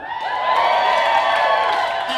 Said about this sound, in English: That's not the loudest cheer I've heard all night.